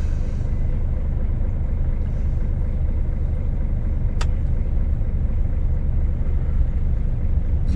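A car rolling along a rough, poor road, a steady loud low rumble of engine and tyres heard from inside the cabin, with one brief sharp click partway through and no talk.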